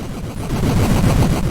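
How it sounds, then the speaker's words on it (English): Chiptune explosions from the 8-bit game Chojin Sentai Jetman: a loud, steady crackling rumble of noisy bursts rolling together for about a second and a half. "Gotta love those 8-bit explosions."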